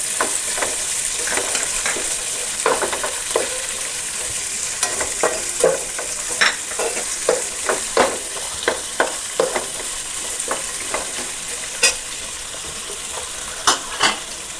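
Carrots, beans and green chilli stir-frying in a hot pan for vegetable fried rice, with a steady sizzle and frequent sharp scrapes and clinks of a spatula against the pan.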